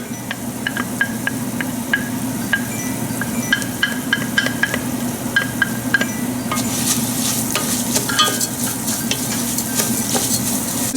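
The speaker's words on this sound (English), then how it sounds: "And now I'll add the garlic." Garlic sizzles as it fries in a pan for a tomato sauce, a steady close crackle with small pops that grows brighter and more intense partway through; no voices.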